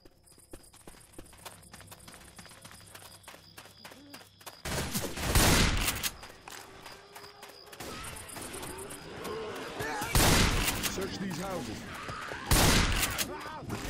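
Gunfire in the video game Left 4 Dead 2, with two loud bursts of shooting amid quieter game noise and scattered clicks, under occasional talk.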